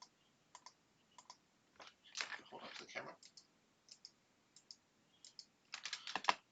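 Mouse clicks on a computer come as light, scattered taps at irregular intervals, faint and close in a quiet room, with a person speaking briefly partway through.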